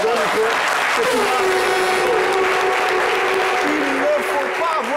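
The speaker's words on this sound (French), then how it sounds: "On va applaudir bien fort." A studio audience on a French live television talk show applauds loudly and steadily for about five seconds, with a host's voice and a sustained sung or held tone rising over the dense clapping.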